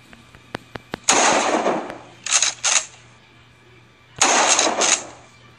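Gunfire in the Roblox video game, a few sharp single clicks, then loud sustained bursts of rapid automatic fire, with a pause before a final burst.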